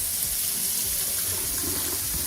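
Water running from a newly installed Glacier Bay McKenna pull-down kitchen faucet into a sink, a steady, loud, close hiss and splash that continues unbroken with no speech.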